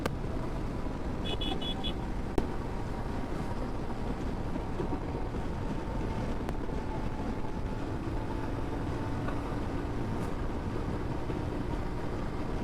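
A CF Moto 450 MT motorcycle engine revs hard at high rpm on a road, a steady dense drone mixed with strong wind rush that stays loud and even throughout, no speech.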